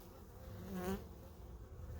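Wasps buzz near beehives close to their nest, a faint steady insect drone with one nearer pass that briefly rises and falls in pitch.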